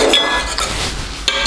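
Scallions being stirred into a cooking pot for Jamaican rice and peas, with close, loud clinks and scrapes of a utensil against the pot and a sharper knock near the end.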